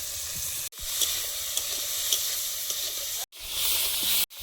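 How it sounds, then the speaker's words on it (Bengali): Nigella seeds crackling in hot oil in a wok, a continuous close hiss and fizz with faint pops, cut by a few abrupt brief silences. "কড়াইতে তেল দিয়েছি এবার কালো জিরে ফোড়ন দিয়ে লাটা মাছের ঝালটা বানিয়ে নেব"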